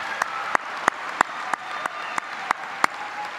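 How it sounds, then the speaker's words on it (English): Audience at a high school commencement claps for theater students, sharp regular claps rising over a steady wash of applause from a large crowd. "Let's give all of our theater students a round of applause."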